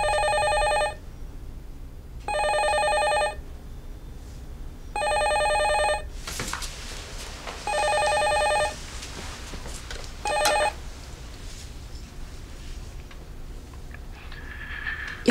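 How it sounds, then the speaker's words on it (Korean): A telephone rings in repeated even bursts, four clear rings with pauses between, then a fainter partial ring amid clatter and room noise; no one speaks. "그날 한세규한테 연락이 왔어요."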